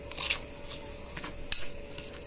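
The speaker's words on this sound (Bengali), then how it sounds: "এখন এটাকে আমি একটা স্পুনের সাহায্যে ভালোভাবে মিশিয়ে" A spoon mixes sour yogurt and semolina in a bowl, with soft squishy stirring and a couple of light clinks against the bowl, close and quiet with no talk.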